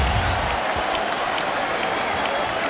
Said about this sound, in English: How about this crowd here tonight for the Lakers? Appreciative as ever.